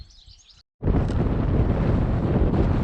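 Strong wind on an exposed stretch of the Gower coast in Wales buffets the microphone with a loud, continuous roar after a brief quieter moment and a short dropout.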